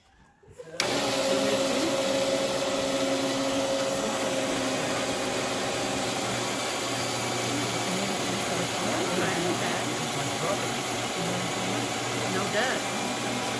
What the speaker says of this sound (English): What's nice about this machine is it will cut in any direction that I want, so I can get circular shapes.